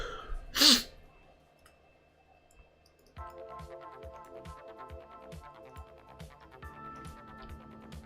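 A single loud sneeze bursts out near the start, followed by quiet and then steady tonal game or background music with a rhythmic beat.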